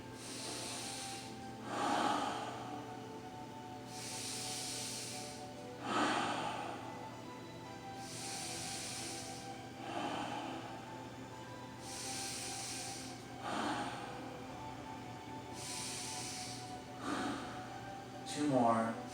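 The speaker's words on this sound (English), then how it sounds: "I am breathing." Slow, deliberate breaths are drawn in and pushed out while a yoga bridge pose is held, each breath rising every few seconds as a soft, close hiss over a quiet room.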